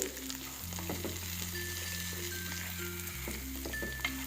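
Grated coconut, coriander and turmeric roasting in a hot pan for Kerala sambar, giving a steady close sizzle with a few stirring scrapes and a low hum underneath.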